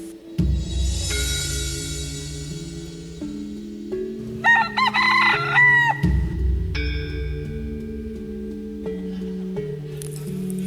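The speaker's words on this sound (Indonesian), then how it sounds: "akan kubuat ayam itu berkokok agar para jin itu lari" A rooster crows loudly at a school music and dance stage show, a long cock-a-doodle-doo repeated over sustained low musical tones, with a brief burst of bright higher calls midway.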